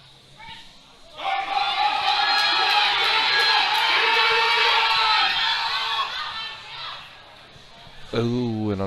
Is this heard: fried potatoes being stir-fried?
no